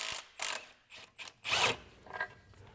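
A hand ratchet working loose an 18mm rear subframe locating bolt on a BMW 135i with the N55 engine, a few short bursts of rapid clicking separated by brief pauses, close and clear.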